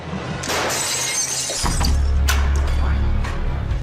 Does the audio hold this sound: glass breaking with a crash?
yes